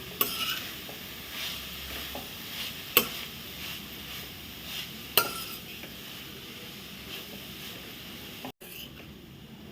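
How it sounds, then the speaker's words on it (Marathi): Freshly grated coconut is stirred gently in ghee in a kadhai, giving a faint low sizzle with soft scraping and a couple of sharp utensil clicks against the pan, close but quiet. "एक चमचा तूप घालूया त्यावर घालूया हे ओलं खोबरं हे थोडंसं हलकंसं परतूया"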